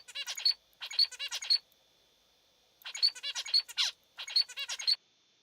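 Robot Finch, a wildlife-mimicking robot, plays synthetic finch calls: three quick bursts of bright, buzzy chirps, a gap of silence, then three more bursts, clear and close with no other sound.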